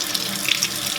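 Steady hiss of water running from a bathroom or kitchen faucet at medium warm temperature, a continuous close stream with small splashing flickers and no talking.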